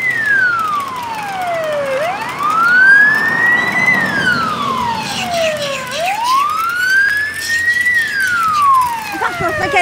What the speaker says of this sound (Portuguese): Agora abriu uma ambulância